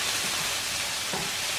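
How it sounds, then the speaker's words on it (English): Steady broadband sizzle of onion, tomato and jalapeno frying in a hot pan, continuous and close, with faint stirring or clatter near the end. "let it sizzle"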